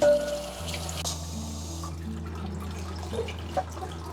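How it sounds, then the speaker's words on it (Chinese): Running tap water splashes steadily over soaked dried mustard greens held in a slotted strainer, a continuous rushing flow with occasional drips and small splashes, close by and with no talking. "用这个漏勺给它过滤一下，然后再用流水给它冲洗一下"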